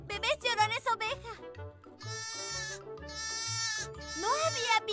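Several bleating cries from a crying-baby toy sheep, wavering and nasal, come in quick bursts with short pauses between them, loud and close.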